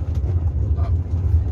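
Continuous low rumbling and rattling of a heavy empty truck bouncing over cobblestone paving in Piracanjuba, Goiás, steady and close, with no talking.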